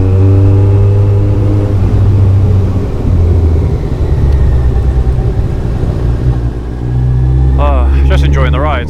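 A Kawasaki ZZR1400 motorcycle engine drones steadily on the move, a loud continuous low rumble with wind noise that shifts slightly in pitch, while a rider talks over it throughout.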